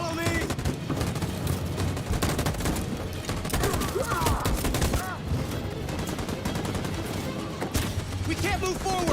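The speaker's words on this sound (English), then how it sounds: "That machine gun is taking down everything that moves!" Rapid machine gun bursts rattle through a Detroit Become Human battle, dense overlapping gunfire with shouted voices mixed in throughout.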